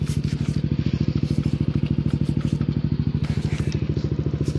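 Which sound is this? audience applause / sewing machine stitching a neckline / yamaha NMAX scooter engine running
yamaha NMAX scooter engine running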